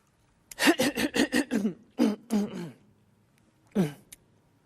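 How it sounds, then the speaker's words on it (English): A string of throat clearing: a rapid run of short rasping bursts, then two more, and a final single clear, close and loud. "I'm clearing my throat."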